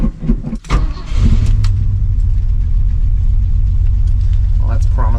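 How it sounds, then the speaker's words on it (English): A pickup truck engine cranks and catches in cold, snowy blizzard conditions during a tent-camping trip: a brief starter whir, then a steady, close idle rumble that holds to the end. "We're gonna see if my truck's gonna start today"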